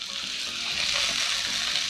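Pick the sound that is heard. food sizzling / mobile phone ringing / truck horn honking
food sizzling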